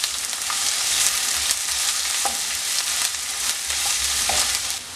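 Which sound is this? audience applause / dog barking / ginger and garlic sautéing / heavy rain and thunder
ginger and garlic sautéing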